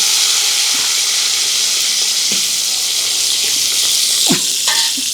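Sliced ridge gourd hits hot oil with green chili and cumin, setting off a loud, steady sizzle with bright hiss and a few stirring clinks near the end.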